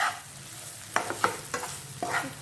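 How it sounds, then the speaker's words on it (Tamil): Prawns fried over a medium flame in a pan and stirred, with several distinct scraping strokes over a soft, steady sizzle, close and fairly quiet. "நல்லா கிளறி விடுங்க."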